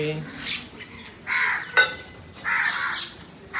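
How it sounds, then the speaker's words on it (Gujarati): Crows caw in a few loud, harsh bursts spaced across the clip, with a brief clatter partway through. "કાકડા કાબરો અને બીજા અહીંયા ઉપર છે."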